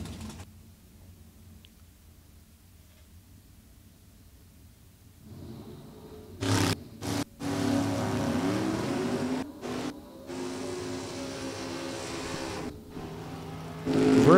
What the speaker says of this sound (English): Denny Napier up now, the Corvette. Nathan Vrooman's 91 Beretta. Nathan getting ready to go vroom vroom.